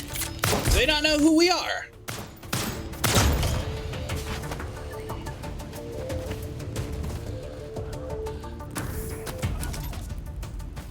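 Enemy gunfire aimed at the player in the survival game Lost Skies, with loud bursts of shots and thuds early on, then quieter action sounds beneath someone speaking.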